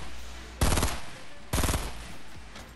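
Two loud, close bursts of rapid automatic gunfire from the Fortnite battle royale video game, each lasting about a second with a quieter rattle trailing after, and no talk over them.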